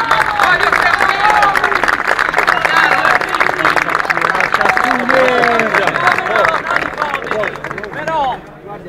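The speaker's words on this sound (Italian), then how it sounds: "Un applauso a Manganelli" Crowd at a workers' demonstration claps and cheers loudly for about eight seconds amid dense babble and shouting voices, then fades toward the end.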